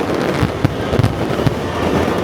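Fireworks grand finale at Epcot in Walt Disney World, partly launched from behind the Japan Pavilion pagoda, with a dense rumble of booms and several sharper, close bursts punching through a steady crackling wash.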